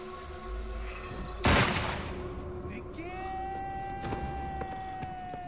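A single sharp gunshot cracks out loud and close in a Marathi movie scene, followed by ringing tones and background voices.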